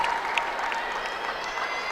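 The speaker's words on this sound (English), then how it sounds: "Big applause coming for Northern." An arena audience at an Illinois State versus UIC college gymnastics meet gives steady, dense applause, a sustained wash of clapping heard at a distance.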